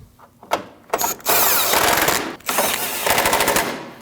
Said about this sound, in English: Now you can start tightening them down.